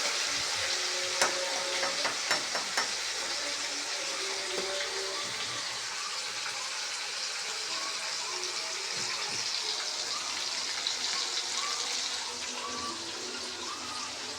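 Chicken pieces frying in hot oil give a steady, dense sizzle and crackle that runs unbroken throughout, with a few sharper pops near the start.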